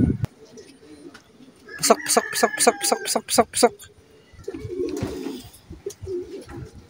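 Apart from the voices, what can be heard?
racing pigeons cooing on arrival at the loft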